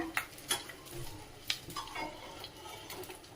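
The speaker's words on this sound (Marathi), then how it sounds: "अशा पद्धतीने आता आपण सगळा डिंक तळून घेऊया।" Edible gum (dink) frying in a pan of oil for laddoos, a faint, soft sizzle with occasional light clinks of a utensil against the pan, no voices.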